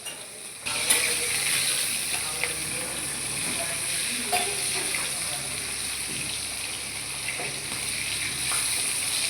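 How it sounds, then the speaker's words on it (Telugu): Onions sizzle in hot oil in a pan for a fish curry, a continuous near frying hiss with scattered scraping and clinking of a stirring utensil, no talking. "ఓకే, ఎర్రగడ్డలు వేసాడు, ఆనియన్స్ వేసాడు."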